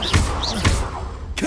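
The Confringo fire-blast spell goes off in the game Hogwarts Legacy, with three heavy thudding blasts in quick succession, each followed by a short crackling tail.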